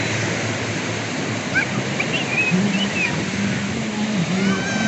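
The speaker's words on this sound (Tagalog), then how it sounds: "Malakas ang alon." Strong waves wash continuously against the shore at a beach in Tanza, Cavite, a dense, even rushing noise, with faint voices and whistle-like tones in the background.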